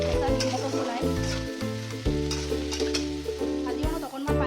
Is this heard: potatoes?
yes